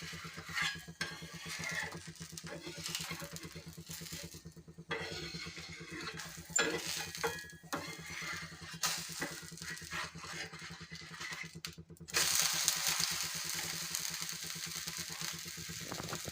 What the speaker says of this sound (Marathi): दुसऱ्या साईडने पण आपल्याला असं छान याला शेकून घ्यायचं आहे भाजून घ्यायचं आहे